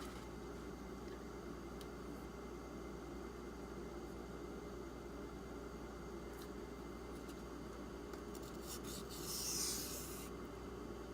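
A Benchmade Griptilian knife with a 440C steel edge is given a light cleanup pass after raising a burr: a continuous soft rasping rub, close and quiet, steady throughout with a slightly louder scrape near the end.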